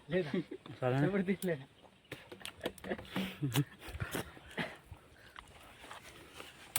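Dogs whine and bark nearby in short bursts, with a person talking at moments in between.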